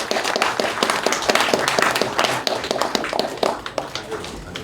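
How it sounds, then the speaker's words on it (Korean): Applause at a thanksgiving service in a hotel hall, many hands clapping in a dense, lively burst that thins into scattered individual claps toward the end. "박수 좀 뜨겁게 쳐주세요"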